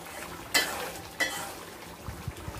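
Spice masala frying in oil for beef liver bhuna, a quiet sizzle with two sharp scraping stirs of the pan, followed by a few soft knocks near the end.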